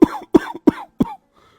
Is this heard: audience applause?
no